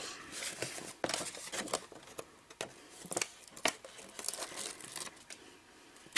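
Backing being peeled off adhesive tape during a craft project: quiet, close crinkling and tearing bursts in an irregular series.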